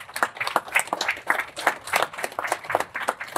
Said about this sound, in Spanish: para quien pido un fuerte voto de aplauso